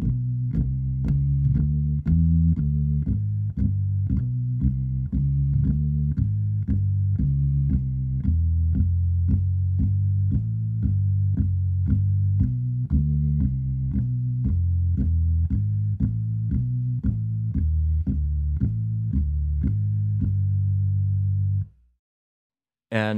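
A Hammond organ plays a steady rhythmic figure, with bass on the lower manual and pedal thumps marking the start of each note, continuing evenly for about twenty seconds before cutting off abruptly.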